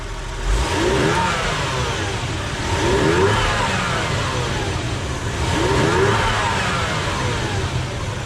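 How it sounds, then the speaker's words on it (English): A 1JZ-GTE car engine with stock intake and stock airbox revs up and settles three times in steady succession, a mid-pitched roar swelling and easing back, heard close with no voices. "This is gonna be stock intake, stock air box sound."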